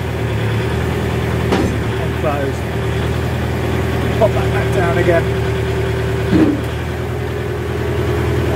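A Landlegend tractor engine idles steadily with a low, constant rumble while someone talks over it, with a couple of brief mechanical clunks.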